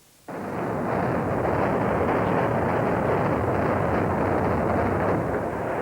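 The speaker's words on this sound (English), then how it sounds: "the first blast, ripping out the supports in the main tower block" Demolition blast tearing out the supports of the old Royal Canberra Hospital main tower block, a sudden booming onset that swells into a long, loud, sustained roar of collapse heard from a distance with no voices.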